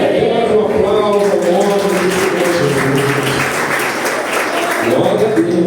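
A church congregation applauds during a celebration service, a sustained, dense wash of many hands clapping close by, steady throughout with a voice speaking over it.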